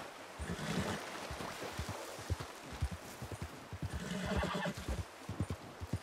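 A horse in Red Dead Redemption 2 whinnies twice amid steady clip-clopping hooves, with rushing water or wind in the background.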